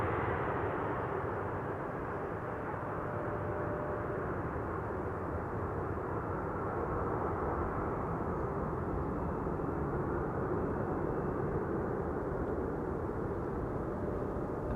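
Boeing 747 landing at Amsterdam Schiphol Airport on a frosty day, engines at idle reverse thrust, giving a loud, steady broadband jet roar that holds evenly throughout with no voices.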